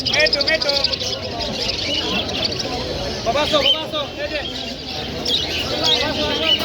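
Many birds chirp and tweet continuously at the Mirpur 1 bird market in Dhaka, a busy, crowded setting, with a babble of voices underneath.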